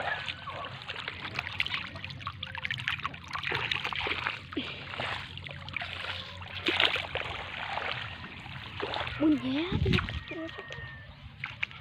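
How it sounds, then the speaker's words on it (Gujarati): Water gushes and sloshes through an irrigation channel in a farm field, a continuous rushing trickle with occasional splashes, while people talk over it. "પાણી સળસળાટ આવી રહ્યું છે।"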